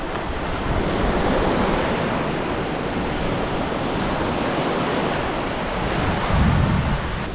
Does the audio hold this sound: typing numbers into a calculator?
no